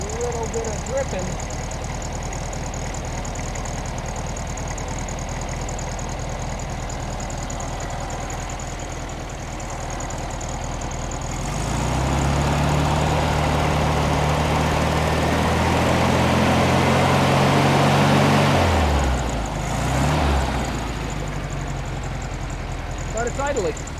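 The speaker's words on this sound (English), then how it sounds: "But it's idling." A 1972 Volkswagen Super Beetle air-cooled engine idles nearby with a steady rumbling putter, swelling louder for a stretch in the middle before dropping back and running unevenly as if about to stall.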